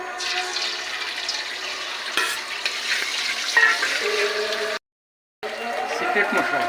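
An egg fries in hot oil in a home kitchen while fried rice is being made. A bright sizzle runs under a voice speaking nearby, with a short silent gap near the end.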